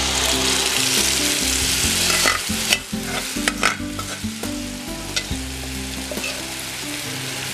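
Whisked yogurt mixed with buckwheat flour and spices is poured into a hot pan for kadhi, giving a loud, steady sizzle and frying hiss with spoon stirring and scraping, a few sharp clinks and knocks midway.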